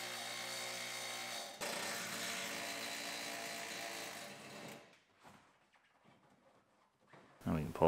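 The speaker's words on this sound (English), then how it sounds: "A couple bolts in the bottom." A power tool runs on bolts at the bottom of a damaged GMC Yukon's front bumper, whirring loud and steady for several seconds before cutting off, leaving quieter scattered clanks and handling sounds.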